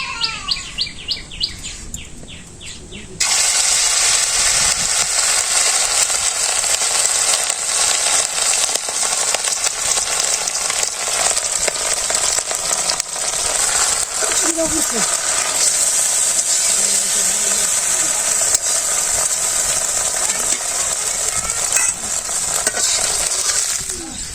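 Eggs frying in a hot kadai with onion and salt, a steady loud sizzle running throughout after a quieter opening, with stirring scrapes and chirping birds nearby in a village setting.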